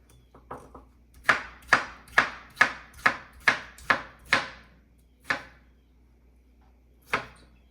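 A knife chops cucumber on a board into a bowl in a quick series of about eight crisp, close, loud strokes, followed by a few slower single chops, with no talk.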